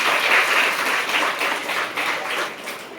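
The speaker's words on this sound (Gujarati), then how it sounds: "જોરદાર તાળી" A crowd applauds steadily throughout at a school health talk, a dense wash of clapping with no pauses.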